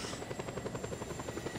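A helicopter gives chase in the video game Just Cause 2, its steady, rapid rotor thumping pulsing evenly and fairly faint, with no speech over it.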